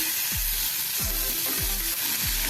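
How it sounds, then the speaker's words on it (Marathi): Chopped tomato sautés in a pan with ginger for a coconut kofta curry, a steady bright sizzle running throughout while four evenly spaced, low scraping stirs sweep through the pan. "हे सुद्धा आता आपण थोडं परतून घेऊया यामध्ये एक आपण मोठा टोमॅटो घेतलेला आहे तो पण चिरून घातलेला आहे"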